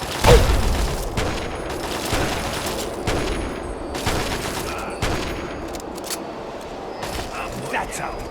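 Rapid bursts of gunfire and booming blasts in the Fallout 3 game, with sustained volleys in the first half, then sparser shots, and shouted voices over the combat.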